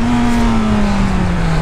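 A Honda CB1000 motorcycle engine holds a loud, close, steady roar, its pitch easing slightly lower over a brief moment.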